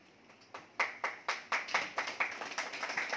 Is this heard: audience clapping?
yes